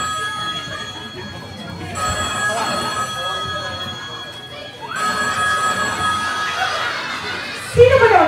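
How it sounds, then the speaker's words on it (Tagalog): A telephone rings in sustained electronic tones running under a noisy backdrop of voices and crowd chatter, with a louder burst of sound near the end. "Rogelio, ang telepono."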